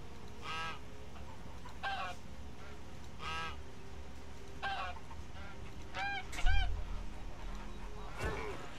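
Several geese honk in short separate bursts across the clip in Albion Online, fairly close, over a low steady background hum with a brief thump near the end.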